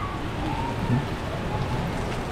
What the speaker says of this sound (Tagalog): Wala, talagang ayaw tumigil talaga yung ulan.